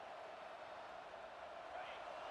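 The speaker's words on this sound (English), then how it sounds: "here comes the noise. This crowd is trying to inspire this defense to make a big red zone stop." Faint, steady stadium crowd roar from the EA Sports College Football 26 video game, a broad wash of noise that swells slightly toward the end.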